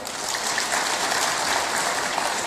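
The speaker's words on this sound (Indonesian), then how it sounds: "Tepuk tangan buat Pak Kodari." An audience applauds a speaker at an Indonesian official gathering, dense even clapping filling the hall from start to end at moderate loudness with no voices over it.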